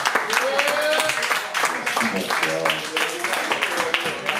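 A slam poetry crowd claps to encourage a performer, brisk overlapping applause with shouts and cheers layered on top, loud and close, fading slightly toward the end.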